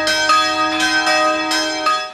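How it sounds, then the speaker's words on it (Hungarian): Church bells ring before Saturday Mass in Óbecse, with several rich, sustained strikes overlapping in a steady peal and no talk. "Harangszóval kezdődött a szentmise szombaton Óbecsén."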